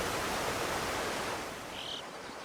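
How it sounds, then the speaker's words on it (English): Meltwater rushing down alpine mountainsides in spring in Engadin, Switzerland, a steady broadband roar that stays close and even, then eases slightly toward the end. "Water rushes down the mountainsides."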